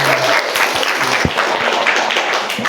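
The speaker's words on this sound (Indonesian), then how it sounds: "Tepuk tangan dulu Bang Nurul." A crowd applauds steadily throughout, dense clapping at a fairly loud level with a few sharper claps standing out.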